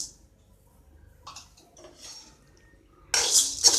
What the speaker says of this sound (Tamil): அடுத்து கடலைப்பருப்பு போடுறேன்